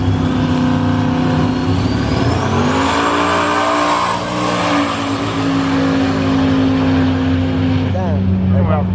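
A drag race car runs an eighth mile with a loud, sustained engine roar that climbs through gear changes and then fades as it pulls away, with crowd chatter audible underneath.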